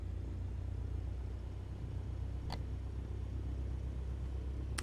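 A Cessna 152 engine in Microsoft Flight Simulator drones steadily at 1000 RPM, a low, even rumble that holds constant, with two brief clicks cutting across it.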